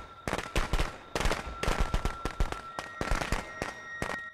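Fireworks going off in Friday the 13th The Game: a rapid string of sharp crackling bursts and pops, loud and close, continuing in irregular clusters for several seconds with no talk over them.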